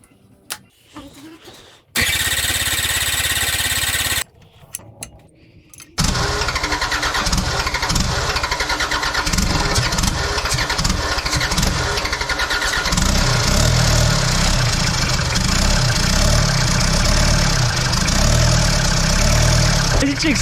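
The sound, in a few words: rebuilt Toyota 4Runner 2.5 engine starting and idling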